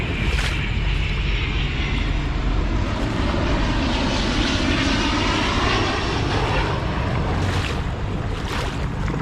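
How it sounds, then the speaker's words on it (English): Several aeroplanes fly over an urban creek, their broadband engine roar continuous and loud throughout, with a steady rushing wash. "Bunch of aeroplanes flying over."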